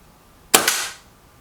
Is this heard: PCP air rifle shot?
yes